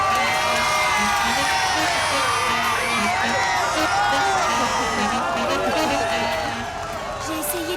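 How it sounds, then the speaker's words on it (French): A crowd cheers and whoops for the football champions in a steady, loud roar of many voices, with shouts and whistles rising over a dense wash of cheering. "Applaudissons nos valeureux champions et laissons-les se reposer."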